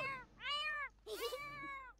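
A cat in The Sims 4 meows twice, two clear drawn-out calls close up, the second rising sharply and held slightly longer, with no talking over them.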